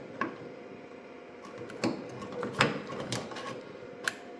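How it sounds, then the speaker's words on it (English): The backup light switch on a 1965 Ford Mustang gives several faint, sharp clicks at irregular intervals as it is turned, quiet against a low background hiss in a garage. "Hear it clicking."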